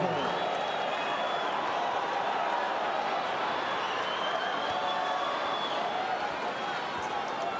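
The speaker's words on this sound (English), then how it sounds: "Listen to this crowd." A large tennis crowd at the 2017 Australian Open final between Federer and Nadal keeps up a dense, sustained roar of cheering and applause throughout, steady and loud with no break.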